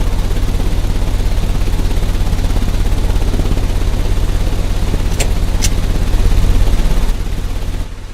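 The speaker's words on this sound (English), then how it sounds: "The engine has started." A machine engine in the Sherlock Holmes Crimes and Punishments game runs with a loud, steady low rumble, interrupted by two sharp clanks, before the drone drops in level near the end.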